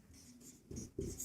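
Chalk or marker scratching across a board during a Class 10 maths lesson on surface area, a few short strokes, close and fairly quiet with no talking.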